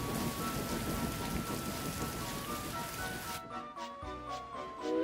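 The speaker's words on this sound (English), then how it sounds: "That night, it was a thunderstorm. It had rained even more," Heavy rain pours steadily during a night thunderstorm, a dense close hiss that fills the scene and then thins out near the end as a soft musical tone comes in.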